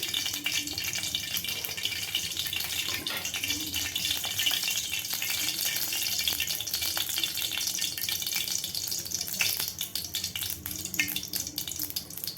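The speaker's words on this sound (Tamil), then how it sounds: "இப்போ தாளிக்கணும்." Spices sizzle and crackle steadily in hot sesame oil while being tempered for a tamarind curry, a continuous bright frying hiss at moderate closeness with no talk.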